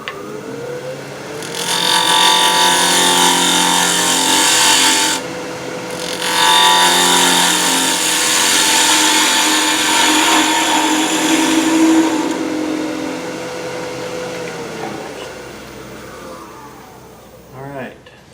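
A multi-axis machine takes a facing cut across a workpiece, a loud continuous grinding whine with a short pause near five seconds, then steady cutting that fades out toward the end, with talk underneath.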